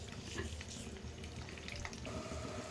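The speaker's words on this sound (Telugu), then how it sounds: "ఎగ్ అయితే ఫ్రై అవుతుంది." An egg seasoned with a pinch of salt fries in a pan with a soft, continuous sizzle and faint crackles. It stays low and steady throughout, with no voices.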